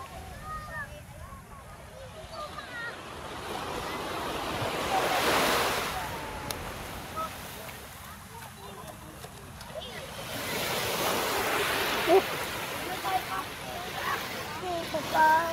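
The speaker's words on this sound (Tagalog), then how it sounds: "Ang lakas ng agos nun, guys." A strong water current flows outdoors at a bathing spot, a broad continuous rush that swells and recedes like surf, mixed with wind buffeting and faint voices in the background.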